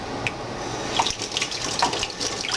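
A kitchen tap runs steadily as a spoon is rinsed under it, with soft splashing and a few light clinks of metal, close by and fairly quiet.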